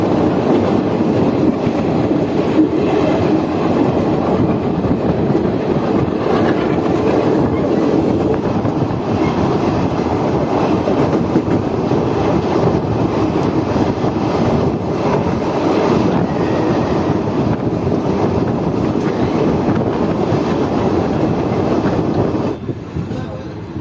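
The Danapur - Jogbani Express rolls along steadily, giving a loud, continuous rumble of wheels and wagons with faint clickety-clack and wind noise, heard close from on board, before easing off near the end.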